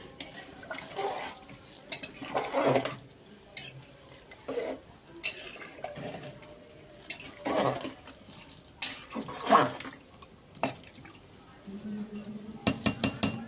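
Hot water is poured into a spicy red mutton curry in a pot and stirred, with splashes, metallic scrapes and clinks of a spoon against the pot in irregular bursts, close and moderately quiet.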